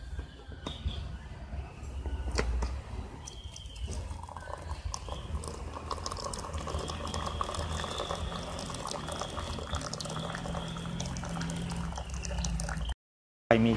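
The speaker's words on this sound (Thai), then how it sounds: "ใส่แก้วเข้าไปแล้วก็ตามด้วยน้ำร้อนนะครับ" Hot water poured over a pinch of dried herbal tea leaves in a glass, a steady close bubbling, trickling pour running for most of the stretch, with a brief cut near the end.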